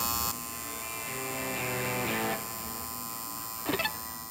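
Tattoo machine needling skin dot by dot in a Paris tattoo studio, a steady faint electric buzz with a tonal hum running throughout, swelling slightly midway, with a brief rustle near the end.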